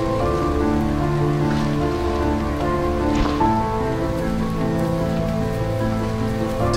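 Steady rain falls on surfaces in a very wet wild place, a dense, continuous patter that is loud and close and runs alone without any voices.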